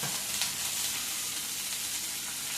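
Onion, green chilli, tomato and garlic frying together in a pan for a gravy, giving a steady, even sizzle with light crackle that holds throughout without any voices.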